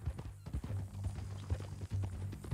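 Horse hooves clip-clop at a steady walking rhythm in the Red Dead Redemption 2 video game, fairly close and moderate in level, with faint speech-like sounds in the background.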